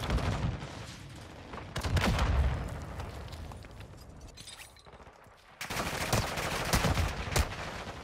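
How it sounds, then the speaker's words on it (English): Enemy gunfire in Call of Duty: Modern Warfare II comes as dense bursts of shots, loud at the start and again in a heavy rolling barrage after a quieter lull midway. "taking enemy fire!"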